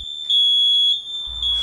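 A smoke or fire alarm sounds a loud, steady, piercing electronic tone that holds almost unbroken for the whole moment, with a faint low rumble near the end.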